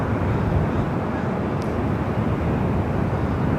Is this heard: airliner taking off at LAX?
yes